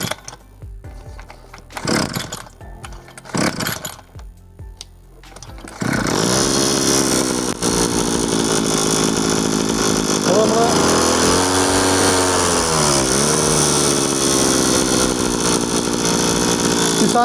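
A Kisan brush cutter engine fires up after a choke repair and runs with a steady buzzing drone that rises and falls with the throttle, loud and close, following a few seconds of scattered handling noise and some talk.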